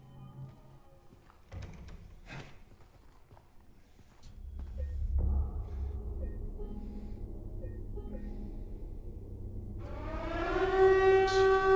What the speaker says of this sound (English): playing the siren, which made it even freaking worse